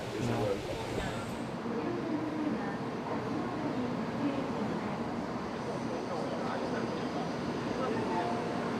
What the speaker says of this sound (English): So we've made the trip from Kobe to Tokyo by bullet train